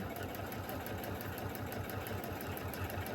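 A sewing machine stitches a pillow seam with the presser foot lowered, running as a steady, fairly quiet rhythmic whir with even pulsing throughout.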